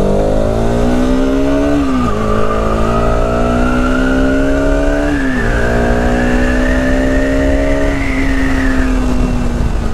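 Bajaj Pulsar RS200 BS6 motorcycle (2020, 200cc) being ridden, its engine droning steadily and loud, rising in pitch through repeated gear runs with distinct shifts, with no talk over it.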